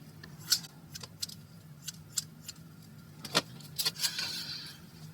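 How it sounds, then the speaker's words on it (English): Scissors snipping loose tulle around the edges of a shabby fabric flower, a run of quick crisp snips close by, irregular and fairly quiet, with no talk. "It's just a lot of wild tulle around those edges, so I'm just going to come in and snip that up."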